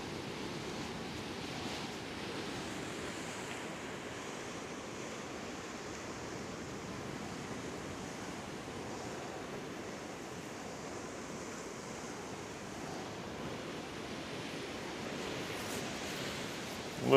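Ocean waves wash onto a beach in a steady, broad rush of surf that holds at an even level throughout, with no talking, and a sudden bump right at the end.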